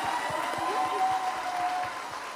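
A studio audience on a French-language TV talk show applauds in an even, continuous patter, moderately loud, with a faint tonal hum running underneath.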